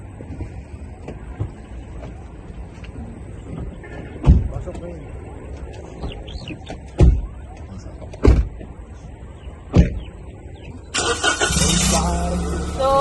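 Several doors thump shut and a car engine cranks and catches near the end, rising into a steady idle, while people chat casually inside the car.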